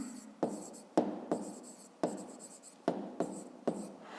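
Pen writing on paper while doing a fifth-grade math exercise: close, repeated scratchy strokes in quick bursts with brief pauses between, alone with no talk.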